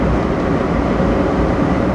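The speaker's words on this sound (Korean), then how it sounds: "소음하고 풍절음이 너무 심해요." Loud, steady low roar of tires and rushing wind heard from inside a Ford F-150 Raptor pickup moving at 100 km/h, constant with no breaks.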